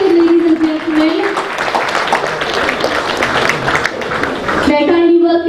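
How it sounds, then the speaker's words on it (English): An audience at an interior design awards ceremony in a Bangalore hotel breaks into sustained applause for the awardees, a dense burst of clapping lasting several seconds, with an announcer's amplified voice before and after. "Can you guys kindly give a round of applause to them?"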